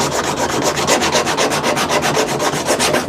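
Rapid back-and-forth hand sanding along the edges of a plywood jig for cabinet door installation, a steady rhythmic scratching rasp, close and loud with no talk.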